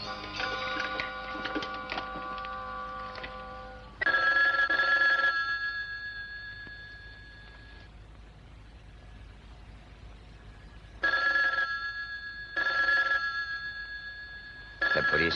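An old telephone rings in a hotel room. Loud bursts of bell ringing are separated by pauses, with a longer mechanical ringing passage at the start, and no voices are heard.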